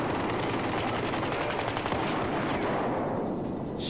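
Shotgun fire in Battlefield 4, a dense rapid burst of loud close blasts hammering continuously for a few seconds before tapering off.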